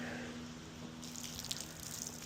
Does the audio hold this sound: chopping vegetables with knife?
no